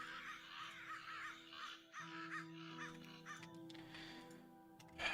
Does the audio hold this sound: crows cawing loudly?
yes